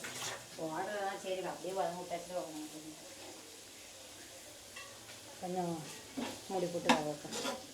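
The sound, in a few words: onions sizzling while being sautéed in a pan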